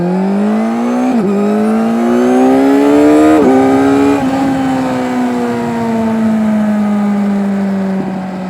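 A 2025 Kawasaki Z900 SE with an M4 slip-on exhaust pulls hard through the gears, its loud close engine note rising in pitch, dipping briefly at each shift, then settling into a steady drone.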